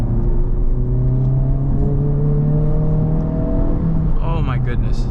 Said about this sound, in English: you have the deeper tone of the exhaust